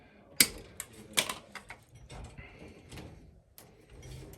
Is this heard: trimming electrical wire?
yes